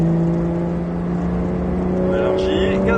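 A Porsche 911 GT3 of the 991 generation pulls hard on the Ladoux circuit, its engine a sustained droning tone heard from inside the cabin while an instructor talks over it.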